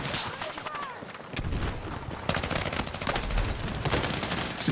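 Sniper gunfire in the video game Battlefield 6, dense bursts of game combat shots and cracks overlapping at moderate loudness, with a constant battle din underneath.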